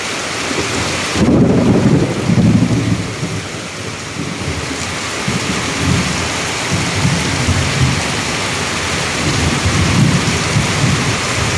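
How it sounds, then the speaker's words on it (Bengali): Heavy thunderstorm over farmland where rice and maize crops are being soaked: steady, loud rain hiss throughout, with deep rolling thunder rumbles repeating underneath. No one speaks. "এটা কি রকমের বজ্রপাত হচ্ছে"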